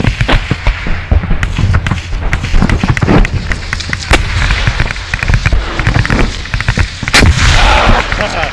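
Artillery guns firing at night during combat in Donbass, a rapid, dense barrage of loud sharp blasts and thumps, some close and some distant, continuing throughout.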